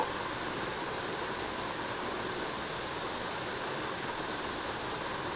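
Taro stolons and green chilli fry in a pan, giving a steady, dense, even sizzle with no breaks, moderately loud and close throughout.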